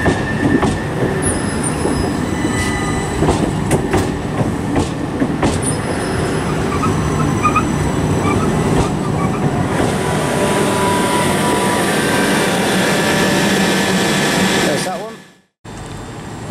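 A Southern Class 377 passenger train departs Lewes station, its wheels and rails rumbling loudly and steadily with occasional squeals and clicks before the sound cuts out abruptly near the end.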